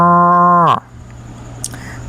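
A human voice imitates a cow mooing with a single loud, close, steady low moo lasting under a second that drops at the end, followed by quiet.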